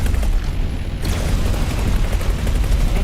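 Video game gunfire hitting shields in Heretic's End, a dense, loud, unbroken stream of booming impacts and rumbling blasts with no talk.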